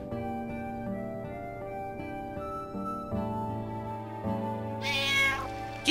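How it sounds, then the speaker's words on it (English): A cat meows in the Final Fantasy IX video game, a couple of short game-audio cries near the end over steady background music, with no talking. "Kitty cat!"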